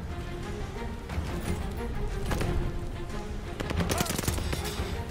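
Gunfire rattles in Call of Duty: Vanguard, bursts of rapid automatic shots and sharp cracks layered over a busy battle din, loud and close, with voices mixed in.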